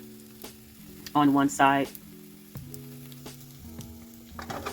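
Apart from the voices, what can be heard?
egg whites frying in a pan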